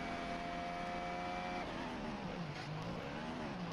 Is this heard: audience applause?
no